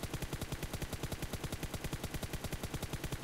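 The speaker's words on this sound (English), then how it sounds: "Who are you shooting at now?" Rapid automatic gunfire rattles in the video game PUBG Mobile, an evenly spaced stream of sharp shots sustained for several seconds, faint in level and heard alone.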